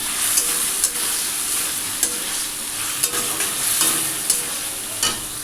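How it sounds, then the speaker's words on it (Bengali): Chicken pieces sizzle and crackle as they are stir-fried in a pan, with loud repeated scraping strokes of a spatula over a constant hot-oil hiss. "আর চিকেনগুলো দিয়ে এবার কষাবো।"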